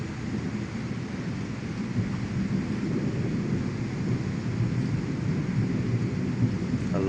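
Rain falls steadily during a night thunderstorm with frequent lightning, a continuous wash of rainfall over a low, rolling rumble that holds at an even level for the full stretch, with no one speaking.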